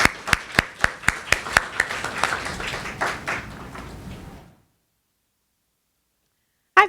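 Audience applause welcoming a poet to a free literary reading event, starting with a handful of sharp, distinct claps that swell into a brief dense patter, then fade out after about four seconds into silence.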